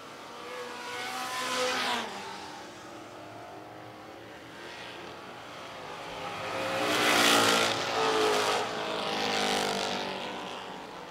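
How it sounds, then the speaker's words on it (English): Vintage race cars, including a number 20 car with a 1971 Mustang body, roar around Lancaster Motor Speedway in a feature race, engines swelling loudly as the pack passes close and fading between passes, with no talk. "Still, Mangum still trying to chase down that 71 Mustang body on that number 20 car"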